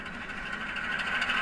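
A model GP15 locomotive sound decoder throttling up, giving a steady, moderately loud engine drone that builds slightly toward the end, with no talking.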